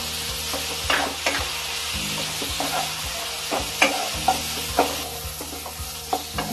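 Potatoes sizzle in spices in a pan while being stirred for a Bengali-style bhetki fish curry, a continuous close frying hiss with regular scraping strokes and occasional sharper utensil knocks.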